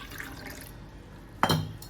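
Water is poured into a cooking pot of soaked rice for kuska, heard as a short, close splash that rises abruptly near the end after a quiet stretch.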